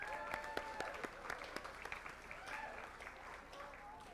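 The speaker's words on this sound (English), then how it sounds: "Ladies and gentlemen, please give Angelica another round of applause." Applause from the audience at a school board meeting honoring a staff award recipient, fairly quiet and steady with scattered individual claps and faint voices mixed in.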